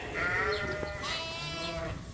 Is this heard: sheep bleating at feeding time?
yes